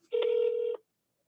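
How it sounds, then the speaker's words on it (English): A short steady electronic telephone tone lasting under a second, clean and close with no voices, heard while dialing into a call center through a phone app. "So I'm going to click to dial into the call center."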